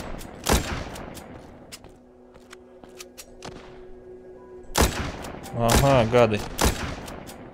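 Gunshots in the mobile zombie game The Walking Zombie 2, a sharp single shot early, then a burst of several louder shots later, with someone speaking Russian between them.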